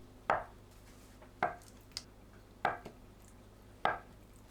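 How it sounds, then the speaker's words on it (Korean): Four separate knife strokes cut tofu into bite-size pieces on a cutting board at steady intervals, each a short, clear thunk through soft food, with quiet pauses between them. "두부를 한입 크기로 썰어주세요."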